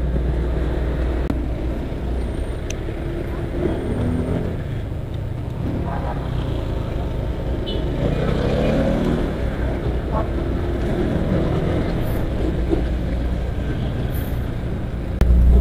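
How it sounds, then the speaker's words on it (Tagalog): A Honda Click 125 version 2 scooter rides out of IT Park in Cebu, its engine humming low and steady with road and wind noise and brief rises in revs. "yung gamit ko palang motor, Honda Click 125 version 2 siya"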